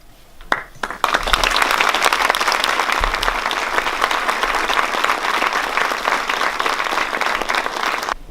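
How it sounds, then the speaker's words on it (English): Audience applause at a 2018 Military Intelligence Hall of Fame induction ceremony: a few scattered claps, then a full, steady round from a large crowd in a hall that holds loud and even for several seconds before easing slightly. "Please join me in a round of applause for our 2018 inductees."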